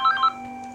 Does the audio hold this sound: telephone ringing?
yes